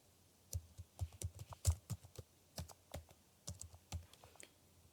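Irregular keystrokes on a computer keyboard as a password is entered, a sparse run of distinct clicks with short pauses between them, close and fairly quiet with no voices.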